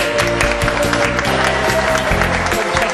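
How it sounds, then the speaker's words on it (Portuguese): A Methodist church congregation in Jericó claps after a bishop's address, a loud, full round of applause with low music or chatter running beneath it. "Uma salva de palmas."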